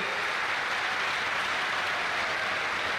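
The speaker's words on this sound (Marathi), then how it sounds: "पवार सरांसाठी एकदा जोरदार टाळ्या वाजवल्या पाहिजे" Crowd applause at a university youth festival opening ceremony, a dense, even roar of clapping that holds steady throughout.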